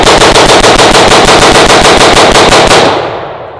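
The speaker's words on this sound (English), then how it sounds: "shooting guns and blowing shit up" Rapid automatic gunfire rips outdoors at a hay bale during a bachelor party, a loud unbroken burst of about twenty evenly spaced shots over three seconds, then stopping and trailing off into a fading echo.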